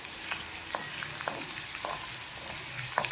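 Garlic, cumin and lentils sizzle in hot oil for a Telugu tomato chutney tempering, a steady close hiss with a few light scrapes of a spoon stirring through it.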